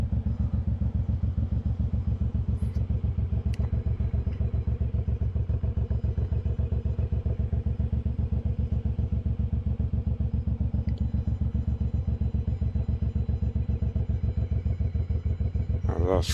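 A motorcycle engine runs steadily and loudly close by as the bike rides through town in Bloemfontein on a hot summer day, its pulsing drone continuous throughout with occasional faint clatter.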